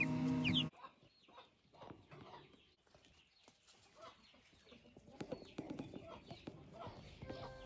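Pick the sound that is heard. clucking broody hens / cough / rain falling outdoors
clucking broody hens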